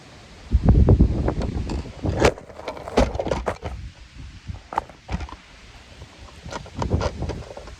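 Gusty wind buffets the microphone outdoors in a home garden during a harvest, with loud rumbling bursts early on and more rustling gusts rising and falling throughout.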